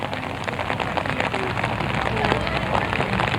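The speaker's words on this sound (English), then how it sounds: "It's raining like a son of a gun out here." Heavy outdoor rain pours in a dense, steady hiss with scattered splashing drops, loud and continuous, with faint background voices beneath it.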